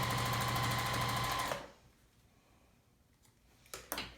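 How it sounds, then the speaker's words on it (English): A sewing machine runs a fast, steady stitching burr while sewing a very narrow seam on a prairie point for a quilt block, then stops abruptly, leaving quiet and a couple of small clicks. "with a very tight seam allowance, send that through the machine"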